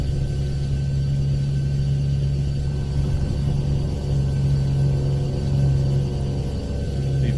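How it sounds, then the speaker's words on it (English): A truck engine in Euro Truck Simulator 2 drones through a tunnel, a continuous low rumble with a steady hum that holds at an even, fairly loud level throughout, with no voices. "This truck would be so noisy coming through this tunnel."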